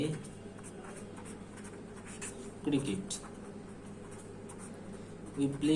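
Pen or marker scratching out a short example sentence by hand, soft intermittent strokes with a few louder scrapes, faint and close, under a teacher's quiet talking.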